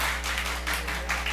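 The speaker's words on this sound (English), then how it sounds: "an attorney has gotten a round of applause" A small audience in a city council meeting gives a round of applause, steady moderate clapping from several people over a low constant hum.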